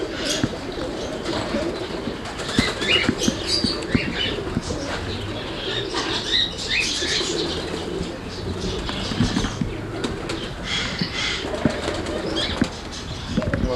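A roller pigeon cockbird is placed in a loft pen, with repeated bursts of wing flapping and soft cooing nearby over a low background.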